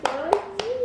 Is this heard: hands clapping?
yes